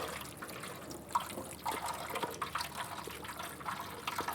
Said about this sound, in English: Have to use some cold water to rinse it off.